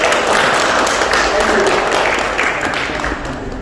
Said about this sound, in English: You have a big round of applause.